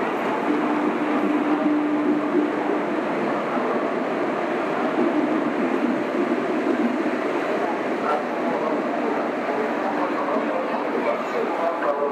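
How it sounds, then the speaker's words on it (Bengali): The Puri Superfast Express arrives at a busy station platform with a steady broad rumble and a faint whine, while people talk nearby throughout. "ট্রেন ঢুকছে, ওরা পুরী সুপার ফাস্ট।"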